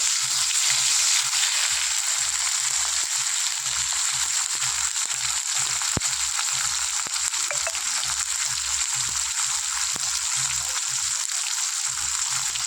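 Tomatoes and Bengali five-spice tempering fry in hot oil, giving a loud, continuous close-up sizzle with crackling spits and a few sharp pops, while a low rhythmic thudding runs underneath throughout.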